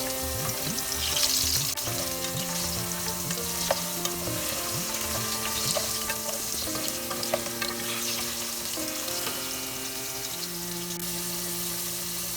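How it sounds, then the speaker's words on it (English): Potato pieces frying in oil over medium flame for Bengali dhokar dalna, a steady, loud, close crackling sizzle throughout with faint occasional utensil taps and no talking. "Fry the potato till it turns slightly golden."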